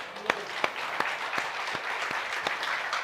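A church congregation at a Sunday morning service claps for its young deacons, a busy patter of hands with sharp, regularly spaced louder claps cutting through at a steady beat.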